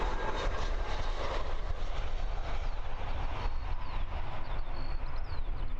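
A jet arriving at Christchurch Airport on a windy evening: a steady, loud broadband engine roar with heavy wind rumble throughout, no distinct onset or fade, and no talking.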